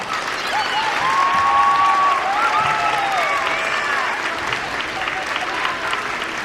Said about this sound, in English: I want to give all the sixth graders a round of applause.